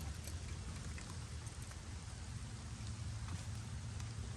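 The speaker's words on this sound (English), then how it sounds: "You see, I'm getting rained on." Steady rain falls outdoors at an archery range, a dense even hiss of drops close by with no talk, continuous for the whole stretch.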